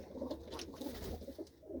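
A female racing pigeon settled back home on its perch gives soft, repeated throaty coos, faint and close with no talk over them.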